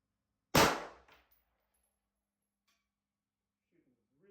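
One sharp, close gunshot from a Daniel Defense MK12 rifle, a loud crack that decays quickly into near silence, with a faint voice briefly at the end.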